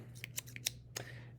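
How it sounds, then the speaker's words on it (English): A pair of scissors with a screw pivot being handled up close: several quick, crisp metallic clicks and snips spaced over about a second, over a low steady hum, with no talking. "I have a pair of scissors here"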